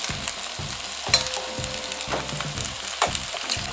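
Potatoes browning in chicken fat in a pan for a chicken stew sizzle and fry steadily, with repeated stirring scrapes and clacks of a utensil against the pan at a fairly even rhythm, close and moderately loud.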